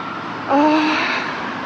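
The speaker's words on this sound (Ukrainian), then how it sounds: "швидка буде лунати, тому що я вже перед лікарню" An ambulance siren outside a hospital rises briefly in the middle, steady and moderately close, above a constant background wash.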